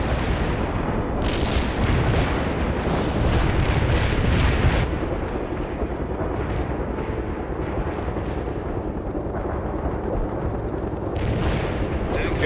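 Heavy artillery barrage in the video game World in Conflict, with a rolling series of loud booms and explosions rumbling continuously and a few sharper blasts standing out.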